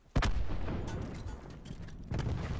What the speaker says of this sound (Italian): Hanno tirato granate là dentro.